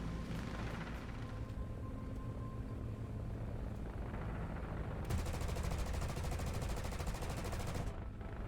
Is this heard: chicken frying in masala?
no